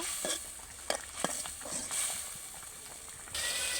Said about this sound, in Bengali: এখন মশলাটাকে আমি ভালোভাবে কষিয়ে নেব